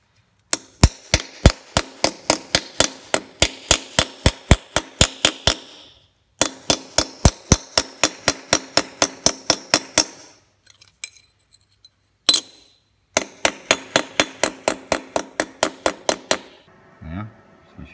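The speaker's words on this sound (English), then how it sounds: "If few whacks on the anvil should sort that out" Metal plate for a rusty VG Valiant ute repair is struck on an anvil in long runs of rapid, evenly spaced hammer blows, loud and close with a ringing clank, broken by brief pauses between bursts.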